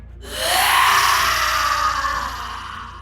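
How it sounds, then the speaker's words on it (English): A winged creature lets out a loud, drawn-out monstrous shriek that swells quickly and holds for several seconds before slowly fading. "you hear Aidan's monstrous shriek as well"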